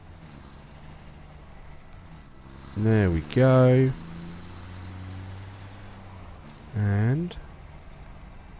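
A truck in the video game Satisfactory drives along as a steady low engine drone, with brief voiced exclamations from a man breaking in three times over the rumble.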